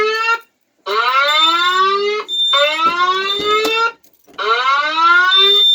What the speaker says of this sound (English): my panel goes back to beeping again. Because another zone was triggered.